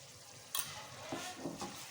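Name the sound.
stirring potatoes and garam masala in a pot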